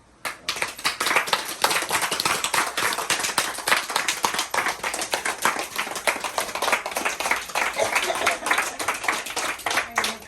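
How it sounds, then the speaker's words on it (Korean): An audience claps its hands together in a fast, continuous rhythm for about ten seconds, the crisp, sharp claps packed tightly and steady throughout. "이렇게 박수 치면서 아무 생각 없이 박수 치는 분들이 계셔"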